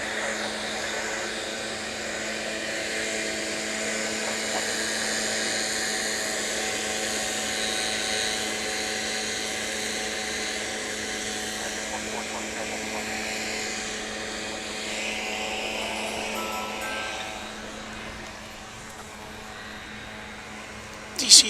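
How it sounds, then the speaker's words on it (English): An American Airlines Airbus A321 landing at DFW International Airport, arriving from New Orleans: a sustained jet roar with a whining tone that slowly fades, then a brief sharp knock at the very end. "follow along with this A321 coming in from New Orleans, Louisiana"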